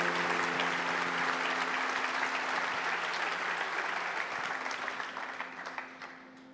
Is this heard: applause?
yes